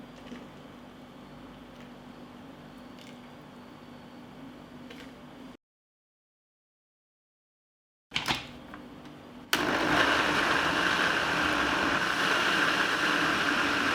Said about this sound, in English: now I will grind them in a blender